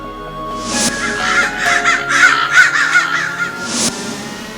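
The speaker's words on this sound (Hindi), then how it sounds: "काला कौवा, काला कौवा," A crow caws loudly and close by in a quick series of harsh, repeated calls, with a brief pause before one final caw. No voices are heard.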